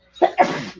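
A single quick sneeze, a short intake followed by a sharp burst, close and fairly loud, with nothing else around it.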